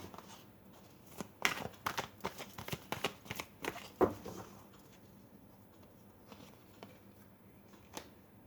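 Tarot cards are shuffled and slid around on a surface in quiet papery flicks and soft taps, bunched together early on, then trailing off into sparse, isolated rustles.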